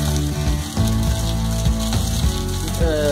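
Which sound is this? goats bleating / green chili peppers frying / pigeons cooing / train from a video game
green chili peppers frying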